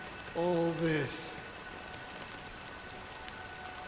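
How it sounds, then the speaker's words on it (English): Steady rain falls in the video game Honkai: Star Rail, a soft continuous hiss lasting throughout at even volume, with a brief voice-like tone near the start. "it's still raining."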